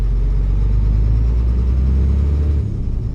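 A heavy truck engine in Euro Truck Simulator 2, fitted with an engine sound mod, drones in a steady loud low rumble, easing slightly near the end, with no talk.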